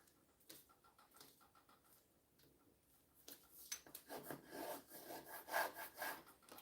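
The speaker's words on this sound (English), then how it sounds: "I rub this on the table since it's clearly not going to stay done like I want it to" Handbag material is rubbed back and forth against a table, giving soft scraping strokes that grow louder and more rhythmic in the second half, heard close up and quietly.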